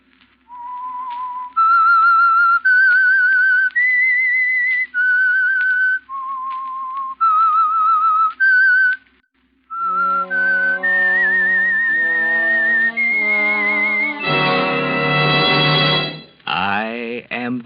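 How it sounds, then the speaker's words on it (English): The Whistler radio drama theme, a single person whistling a slow, eerie melody of sustained notes, loud and close, followed by a fuller orchestral passage that picks up the same tune. "That whistle is your signal for the Signal Oil Program,"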